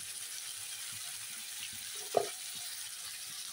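Turmeric powder goes into masala frying in a pan for a rohu fish curry: a faint, steady sizzle runs throughout, with one brief, sharper clatter near the middle.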